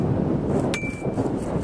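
A standard beginner motorcycle helmet is struck during a shock test, giving a single sharp clang with a brief metallic ring over steady background rumble.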